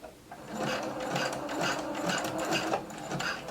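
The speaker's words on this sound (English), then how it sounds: "lower your needle. Now we're not going to begin pulling yet. Let's just do a few stitches" Sewing machine stitching elastic onto knit fabric, a steady close whirring hum of rapid needle strokes that runs unbroken for a few seconds with no talking.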